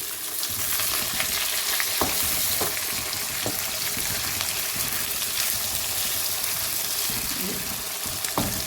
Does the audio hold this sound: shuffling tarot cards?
no